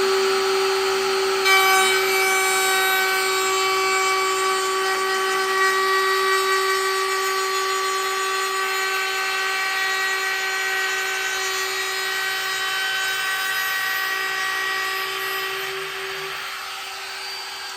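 A power router trims excess wood off a guitar soundboard, a loud steady high-pitched whine with grinding texture that runs continuously, fading slightly near the end, with no talk.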